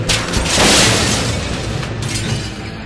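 A battle scene in a Doctor Who audio drama: a loud, rumbling explosion swells and then settles into a dense, sustained roar of battlefield noise, with machine-gun fire implied. There is no talk.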